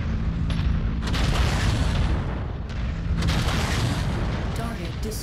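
Missile launches and explosions from the mech combat video game MechWarrior 5 form a dense, continuous barrage of booms and blasts, loud and sustained throughout.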